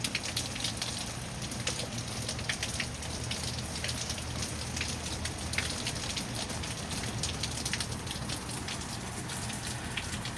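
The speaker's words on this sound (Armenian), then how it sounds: "Անձրևի ջրի չրչռոցը հեսա" Rainwater patters and drips all around, a continuous close hiss of drops splashing with scattered sharper ticks standing out, steady throughout and free of talk.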